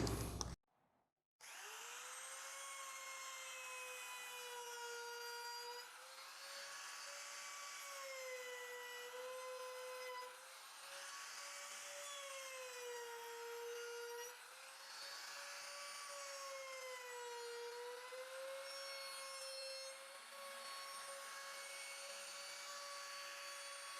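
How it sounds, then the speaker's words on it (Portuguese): A handheld trim router rounds over the edges of a pine cachepot, its high steady whine holding for about twenty seconds with slight wavering pitch as the bit cuts along each corner, close and loud after a brief start. "Vou colocar aqui na tupia laminadora, fazer aqui uma quebra em todos esses cantos dele"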